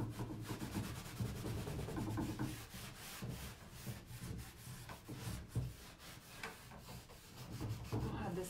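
Paint is rubbed back by hand on a furniture cabinet being made over with blended colours, stencil and wax, giving a steady, faint, continuous scratchy rubbing close by with no talk.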